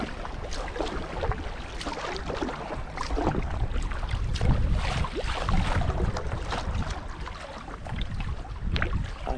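A boat is paddled back upstream in brisk wind, with low water sloshing and irregular splashes and knocks under steady wind noise on the microphone, and no talk.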